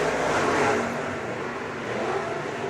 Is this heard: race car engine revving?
yes